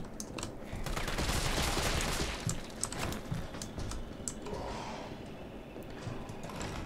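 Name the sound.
handgun gunshots in Resident Evil video game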